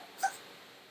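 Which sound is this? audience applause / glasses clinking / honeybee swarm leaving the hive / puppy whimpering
puppy whimpering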